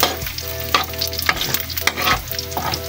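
Pork sautéing in a pan with a little salt for pinakbet, a close, busy sizzle broken by repeated scraping stirs of a spatula, with no voices.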